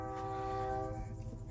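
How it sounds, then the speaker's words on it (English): A train horn sounds at a distance, one steady tone that holds for the whole moment, faint against a low background rumble. "Why are they whistling like that?"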